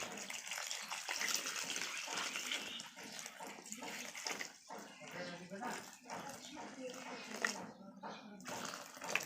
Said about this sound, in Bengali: তো আমি এইটাতে একটু এখানে পানি দিয়ে দেবো, এখানে তো পানি দিতে হবে